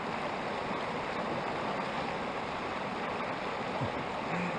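A cold river at a backpacking crossing in Wyoming rushes in a constant broadband wash, steady and fairly close, with no voices.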